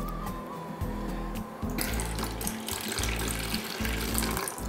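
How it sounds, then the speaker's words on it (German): Plant-based milk poured into a tall mixing beaker while making vegan mayonnaise; a close, steady liquid stream gurgles and splashes continuously for several seconds. "Milch in ein möglichst hohes Aufschlaggefäß geben"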